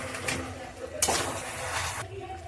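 Chicken with ground coriander and chili powder stirred and sautéed in a pan over low flame without oil, brief scraping and clattering of a spatula against the pan with a soft sizzle underneath, close up.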